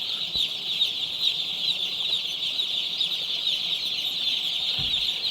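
Day-old chicks in a brooding house at night make a dense, continuous chorus of high cheeping, with a couple of faint thumps.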